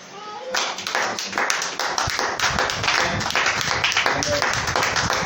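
A church congregation claps together to acclaim the Lord, with dense rhythmic hand claps filling the room continuously and voices mixed underneath.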